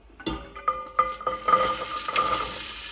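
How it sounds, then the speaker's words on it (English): Clinking pans and utensils over a soft sizzle of vegetables starting to fry in oil, with irregular metallic knocks. "we've got the sizzle, that's what we like."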